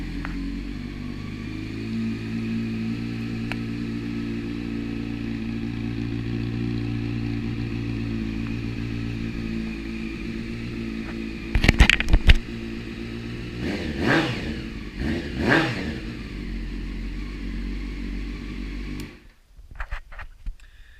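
A 2001 Honda CBR 600 F4i sport bike idles steadily and loudly up close, its engine note rising in a few quick throttle blips near the end before cutting off.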